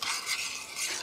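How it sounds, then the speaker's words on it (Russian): A spoon stirs sugar and salt into a carrot marinade in a pot being brought to the boil, a brief close scraping swirl with no voices. "Сахар и соль помешаю, чтобы они быстрее растворились."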